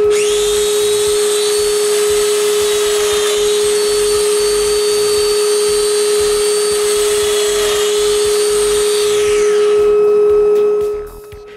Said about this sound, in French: J'ajuste les butées sur la ligne, puis je perce la mortaise.